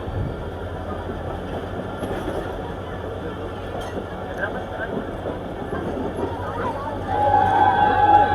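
Marvi Passenger train running through the Thar desert between Khokhrapar and Mirpur Khas, a steady rumbling roll heard from aboard, with a brief brighter tone near the end and faint voices mixed in.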